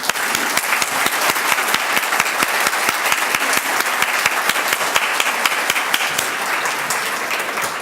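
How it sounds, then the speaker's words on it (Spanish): Strong applause from the audience at a formal conference, a dense, steady roar of many hands clapping loudly and continuously throughout with no voices over it. "pido por favor un fuerte aplauso"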